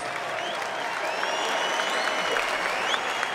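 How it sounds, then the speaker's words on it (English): A crowd applauds steadily at a boxing event at the O2 after a twelve-round fight, dense continuous clapping with faint whistles and cheers, holding an even level throughout with no talk over it. "let's get a nice round of applause out here for both of these fighters"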